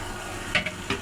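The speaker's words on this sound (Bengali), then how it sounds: "হ্যাঁ, সুন্দর করে মাছগুলো ভাইজে নিচ্ছি" Fish frying in a pan, with a quiet steady sizzle and three short bursts of utensil stirring or scraping close by.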